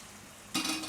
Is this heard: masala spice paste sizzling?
yes